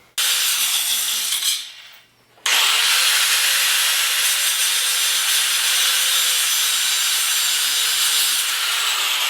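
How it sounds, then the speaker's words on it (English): A power grinder cuts away part of a car clutch in a steady, loud, harsh grind, briefly pausing and spinning down near the start before resuming continuously. "So I had to grind away part of my clutch just to get it so the mechanism can go all the way through."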